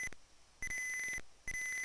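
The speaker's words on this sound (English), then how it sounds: "it will sound the alarm notifying the worker that" Repeated high electronic beeps from an Arduino robot's food-drawer temperature alarm in two long bursts separated by a pause, loud and steady, with no talking.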